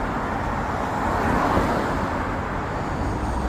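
Steady, dense road traffic from cars fills the scene, a continuous near wash of engines and tire roar with a slight swell midway as a vehicle passes close.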